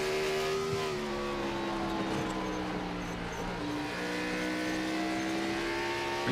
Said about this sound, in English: You can hear the car squeaking and bouncing.